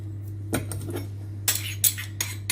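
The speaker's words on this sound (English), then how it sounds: "Stir in lemon rind" A spoon clinks and scrapes against a mixing bowl while lemon rind is stirred in for spice bread, a few sharp, close metallic knocks spread across a quiet kitchen with a low steady hum beneath.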